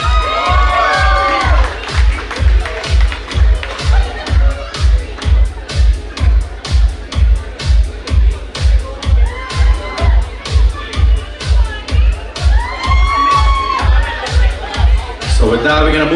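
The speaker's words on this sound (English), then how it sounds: "give it up for Kamai one more time" A wedding reception crowd cheers and whoops in loud, repeated rhythmic bursts, like clapping or stomping in time, with shouts and excited voices layered over the pulsing beat throughout.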